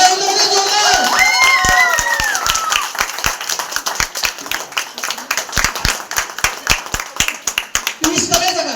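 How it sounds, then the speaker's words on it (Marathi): Audience at a Home Minister housing-society event claps in a sustained, crowd-wide burst of applause, crisp and close, with a voice speaking over the start and again near the end. "टाळ्या होऊ दे जोरदार"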